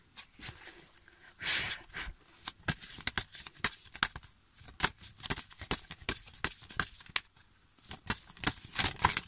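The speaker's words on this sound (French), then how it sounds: "je vais battre les cartes" Playing cards shuffled by hand close up, a run of quick crisp riffling bursts and soft flutters with short pauses between them.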